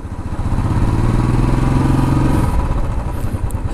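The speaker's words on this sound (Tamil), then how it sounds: "நம்ம பைக்கு அவர் ஓட்டிகிட்டு வர்ற பாருங்க" A motorcycle passing close by, its engine a loud, steady rumble that rises and holds before easing slightly as it moves on, with no talking.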